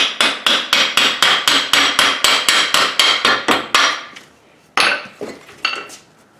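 Steel hammer blows strike a Ford Focus ST axle during disassembly, about fifteen sharp, ringing metallic hits in a steady fast rhythm, then a pause and a few more scattered strikes, close and loud with no talking.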